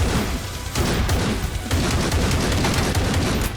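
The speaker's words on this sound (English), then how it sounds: "I love the rate of fire of this thing, and the spread is just perfect." Auto shotgun in Necromunda: Hired Gun fires in a rapid, continuous burst of loud booming blasts that overlap one another with no pauses.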